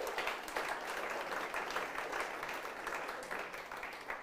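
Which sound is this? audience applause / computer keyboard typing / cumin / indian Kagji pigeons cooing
audience applause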